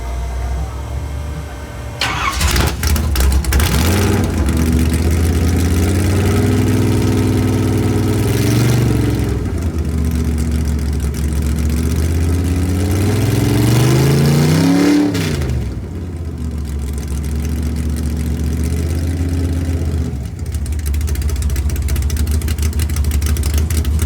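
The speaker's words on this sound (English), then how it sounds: "Now, here comes the car. We're going to start it right now." At a car cruise, a car engine cranks and catches, then settles into a loud, close idle. It is revved in rising and falling surges twice before dropping back to a steady rumble.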